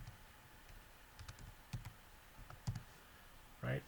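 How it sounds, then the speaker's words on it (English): Sparse clicks of typing on a computer keyboard, a few scattered keystrokes over near silence, close and soft, ending with a firmer key press. "now look at my cursor as I start typing"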